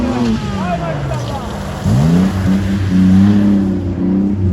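Off-road racing car engine at a Sapanca off-road race, revving with rising and falling pitch, fairly near and loud, with people talking over it.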